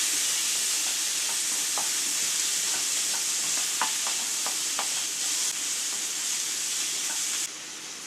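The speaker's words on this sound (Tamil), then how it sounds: "இதையும் சேர்த்து நல்லா வதக்கிக்கலாம்." Chopped tomato sizzles steadily in a hot pan while being sautéed for soya rice, a constant frying hiss punctuated by light scraping taps of a spatula, with no one speaking.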